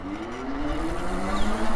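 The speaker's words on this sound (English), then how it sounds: "let's give you a throttle only 0 to 20" A Biktrix Juggernaut Hub Duo e-bike pulls away on throttle alone in a field, its hub motor whining in a rising tone over steady wind and rolling noise, loud and close.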